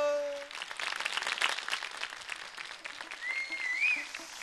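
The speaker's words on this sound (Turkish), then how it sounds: "alkışlar güçlü geliyor" A studio audience on a television show applauds steadily for an arriving guest, with a short music tone at the start and a whistling melody line rising above the clapping near the end.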